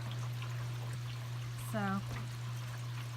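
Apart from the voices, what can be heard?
floodwater draining into basement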